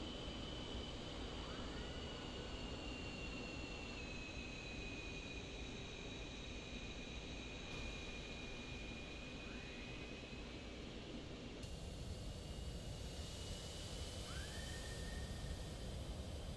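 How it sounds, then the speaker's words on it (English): An F-15 jet engine roars steadily in DCS World, a constant whooshing exhaust with a thin whine that rises and falls several times as the throttle changes. "the engine exhaust makes that sound every time you slow down or speed up"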